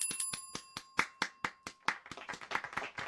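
Sparse, uneven clapping from just a few hands on a home-streamed movie game show, about fifteen distinct sharp claps spaced irregularly, with a thin bell-like ringing tone early on.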